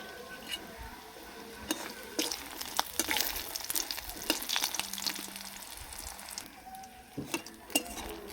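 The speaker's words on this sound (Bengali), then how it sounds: "এর মধ্যে কিছুগুলো বড়ি ভেজে নেব" Bori lentil dumplings fry in mustard oil in a wok with a steady crackling sizzle, broken by sharp clinks and scrapes of stirring throughout.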